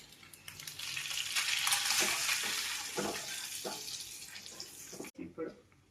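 Cut boiled eggs sizzling in hot oil in a pan, a steady broad hiss with soft crackles throughout, ending in a few brief clatters.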